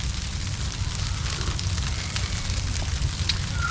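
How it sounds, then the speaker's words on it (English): Steady rain falling on a tarp or debris shelter at a bushcraft camp, a continuous dense hiss with scattered drop ticks, close and fairly loud with no voices. "I'm hearing the rain."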